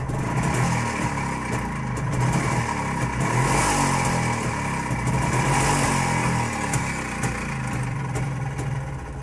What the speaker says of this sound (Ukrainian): І зараз обратно запускаю. Даю газу.